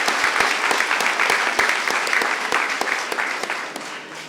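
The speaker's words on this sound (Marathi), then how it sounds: "दोघांचे जोरदार टाळ्या वाजवून अभिनंदन करूया" Church congregation applauding loudly at a novena and holy mass at the Church of Our Lady of Fatima, close individual claps standing out sharply over a sustained bed of clapping that thins slightly toward the end.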